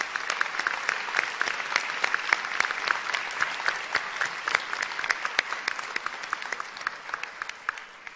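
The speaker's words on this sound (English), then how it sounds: "And I would like to, all of us, to applaud our speakers today." An audience at a 2012 continuing education class day ceremony applauds the speakers, with sustained, dense clapping holding strong for several seconds before easing slightly.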